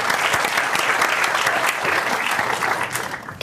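An audience at a live comedy show applauds for a performer named Jonas, with loud, continuous clapping that fades slightly toward the end.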